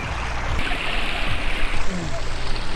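Stream water flowing beside a pool area at a natural swimming spot near Coto Mines, Masinloc, Zambales: a steady, broadband rushing and splashing, close and continuous, with occasional faint voices.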